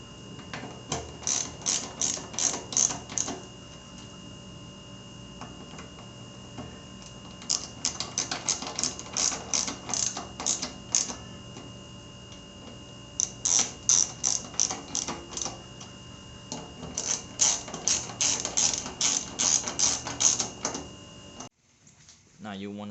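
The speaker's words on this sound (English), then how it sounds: "Now there's a pattern where you tighten the bolt. You tighten crisscross." A ratchet tightening bolts in a crisscross pattern on the fuel filter of a 2008 Suzuki Boulevard M109R motorcycle, with rapid bursts of sharp clicking separated by brief pauses, close and loud.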